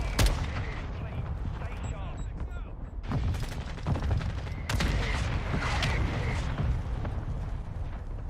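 Call of Duty MW2 gunfire: several sharp, separate shots over a steady game soundscape, one louder burst near the middle, fairly close and clear.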